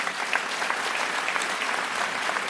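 At a political debate event, an audience applauds Valérie Pécresse with dense, continuous clapping from a sizeable crowd that stays steady and fairly loud throughout, with no voices over it.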